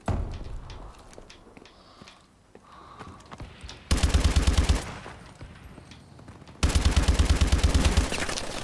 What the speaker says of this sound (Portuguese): Atirei lá do outro lado da rua também